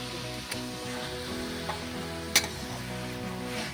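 Cabbage with a fish head stir-frying in a pan, a steady close sizzle throughout with a couple of brief sharp spatters and scrapes.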